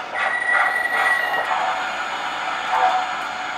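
An O gauge model train runs nearby on a layout with a whirring rumble and a thin, high squeal from its wheels, steady throughout.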